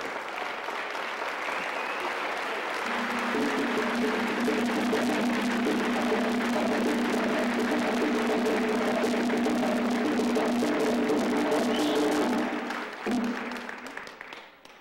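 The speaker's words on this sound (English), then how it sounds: "You could stand up and applaud them." An audience at a political gathering gives a long, loud standing ovation, with dense sustained clapping and a held sung or hummed tone underneath before the applause tapers off near the end.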